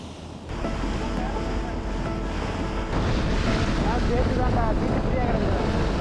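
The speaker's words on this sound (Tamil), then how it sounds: "இந்த ஃபெரியில் இப்படி முன்னாடி உட்காந்து பயணம் பண்ணுறது வேறு லெவல் எக்ஸ்பீரியன்ஸுங்க." Passenger ferry from Rassada Pier, Phuket, to Ao Nang, Krabi, crossing the sea, with constant loud wind buffeting and wave wash heard from the front seating, a continuous roar that strengthens partway through.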